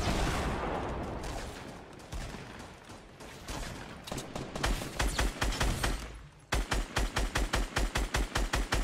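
Gunfire in the video game Fortnite: a burst of shots, then rapid evenly spaced loud reports cracking in a quick rhythm, with no talk over them.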